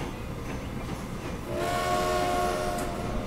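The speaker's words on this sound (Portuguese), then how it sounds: "encheu o trem todinho. E aí ele já vai embora entregar na cidade." A freight train in the Transport Fever simulation game pulls away after loading cargo, with rail rumble giving way at mid-clip to a loud sustained horn or whistle tone over continuing track noise.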